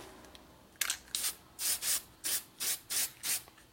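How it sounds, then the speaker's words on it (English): Short bursts from an aerosol spray can coating a 1977 Harley-Davidson XL/XR Sportster Ironhead 1000cc street tracker engine part during a motor rebuild, about eight hissing puffs in steady rhythm, close and fairly quiet with no talk. "So all you do is you take it and you spray it"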